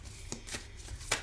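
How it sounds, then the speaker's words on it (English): A goddess oracle card deck being shuffled by hand, giving three or four short, crisp riffling bursts at close range with brief pauses between them and no talking. "I'm going to shuffle the goddess deck"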